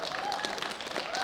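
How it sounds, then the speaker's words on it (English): Brief burst of audience applause at a world bench press championship, a fairly faint, steady patter of many hands clapping at a distance in a large hall. "big round of applause for Hani Smith"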